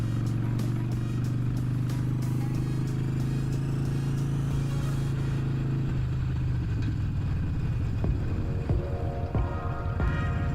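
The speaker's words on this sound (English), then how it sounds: "I think I'm really getting the hang of shifting on this bike" A motorcycle rides along a street, its engine droning with a steady mid-pitched tone that drops and shifts about halfway through as gears change, then a rougher, fluttering engine note continues with wind noise.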